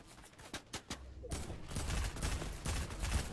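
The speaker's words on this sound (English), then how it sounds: "Oh, you're getting shot at." Gunfire in the Fortnite video game: a few scattered sharp shots give way to dense, rapid bursts of automatic fire, moderately loud and sustained.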